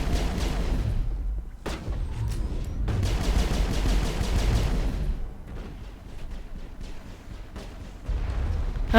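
Grenades detonating in the video game Mass Effect: several heavy booming blasts with rumbling low end, clustered into bursts separated by brief lulls, loud and close.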